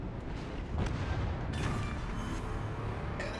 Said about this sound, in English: The last two salvos there are pretty decent.